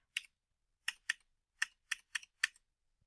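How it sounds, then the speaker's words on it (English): Quiet, close typing on a computer keyboard: about eight crisp key clicks in short irregular bursts with silence between. "we can just type in"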